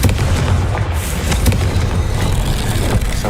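A Confringo spell explodes in the video game Hogwarts Legacy, a loud, dense, rumbling blast with crackling debris that fills the scene alongside game ambience, with no talk.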